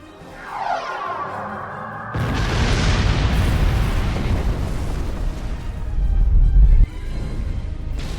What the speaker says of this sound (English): Well then, fire! Fire the torpedoes!